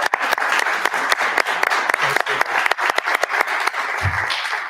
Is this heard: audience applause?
yes